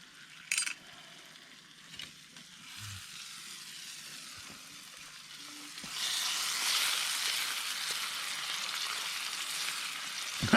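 Steak frying over a campfire at a remote wilderness campsite: a soft, steady sizzle that swells louder and brighter midway and holds, with a few faint clinks and knocks of cookware earlier on.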